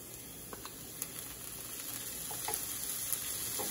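Onions and tomatoes sautéing in a pan for quesadillas make a continuous soft sizzle that grows slightly louder, with a few faint clicks and taps of stirring on top.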